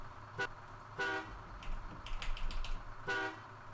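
Truck horn honking in SnowRunner, sounding in three short harmonic blasts spaced across the moment, fairly clear against a low engine rumble with some clicking between.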